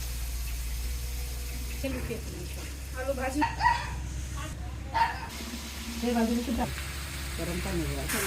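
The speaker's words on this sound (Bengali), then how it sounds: "এই যে এখন মাংস কষানো হচ্ছে" Onions and meat fry and braise in a pan, a steady close sizzle running throughout, with people talking over it.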